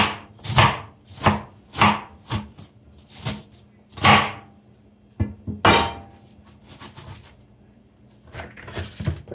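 A knife chops through a cabbage on a cutting board in a home kitchen, giving loud, close, sharp strikes in an uneven series of about ten, with brief pauses between bursts and no talk.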